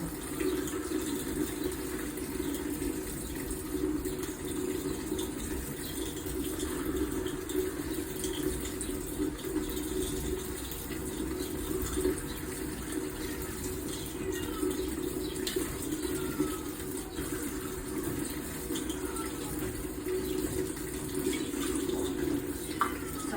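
Water runs steadily from a tap into a measuring cup without a break, a continuous hiss and gurgle at moderate volume.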